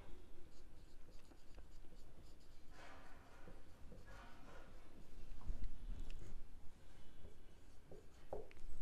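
Pen writing an accounting journal entry on paper, close scratchy strokes under a man's steady speech.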